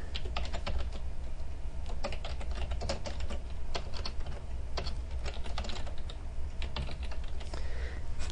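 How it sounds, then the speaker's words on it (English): Steady typing on a computer keyboard while composing an email message, a quiet, close patter of keystrokes with irregular bursts and no voices. "And then I can go ahead and type my message."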